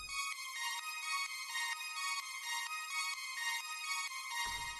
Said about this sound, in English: We've also got an ostinato that plays just underneath the chords